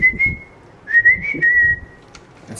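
A person whistles a few short, clear, steady-pitched phrases at a talking toy bird, close by and alone, with soft handling noise between the notes.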